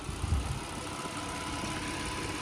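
A 2019 Hyundai Grandeur IG 3.0 LPI with about 159,000 km idles on a cold start, giving a quiet, steady, even hum with no other sounds.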